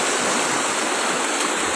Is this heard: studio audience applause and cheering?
no